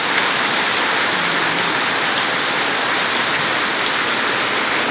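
Heavy rain pours down steadily in Cagayan de Oro (CDO), a dense, loud hiss of drops hitting surfaces close by, with no pauses and no talking.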